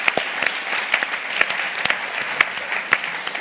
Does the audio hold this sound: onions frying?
no